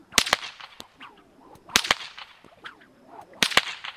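Three loud, sharp bullwhip cracks in the reverse cattleman's style ring out at a steady rhythm about one and a half seconds apart, each a doubled snap followed by a swishing whoosh of the lash, with no voices.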